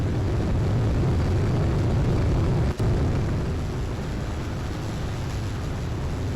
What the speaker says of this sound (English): I generally use these bomber planes.